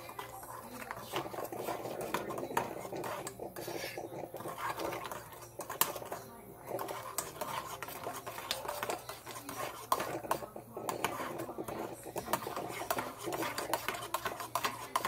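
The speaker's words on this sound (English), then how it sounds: "as soon as I keep on stirring the sugar in" Sugar being stirred into Cuban coffee, a steady close scraping and clinking of a spoon against a cup or pot, continuous and fairly quiet with faint background noise.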